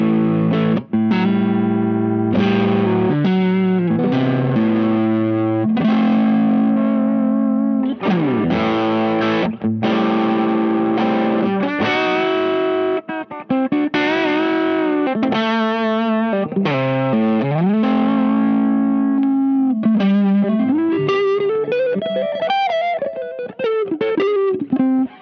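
An electric guitar runs through a Caline Easy Driver overdrive pedal set to its fuller gain 2 voicing, playing a continuous mix of chords and single-note bends with thick, bassy, moderately driven distortion and no talking.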